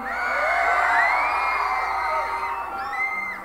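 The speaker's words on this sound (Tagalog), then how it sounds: "Ano nga ng single sumigaw?" A large concert crowd in the Philippines screaming and cheering at a live band show, a dense sustained roar of many shouting voices with whoops rising above it.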